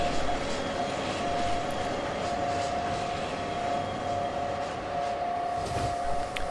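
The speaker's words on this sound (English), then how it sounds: "Like the train that's leaving." A train departing in the Trainz Railroad Simulator 2019 game gives a steady, loud engine drone with a sustained whine over continuous rumble, unchanging throughout.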